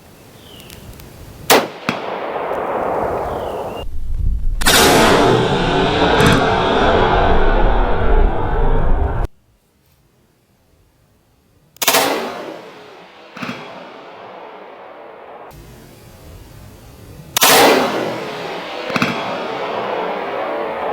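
Rifle fitted with a muzzle brake, fired braced against a barricade: several sharp, loud reports with broad blast and decaying echo, spaced irregularly with a stretch of near silence between shots.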